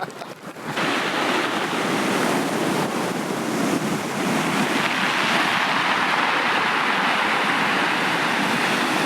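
Waves wash onto the shore close to high tide, a loud, steady roar of surf and rushing water that stays constant throughout, with wind buffeting the microphone.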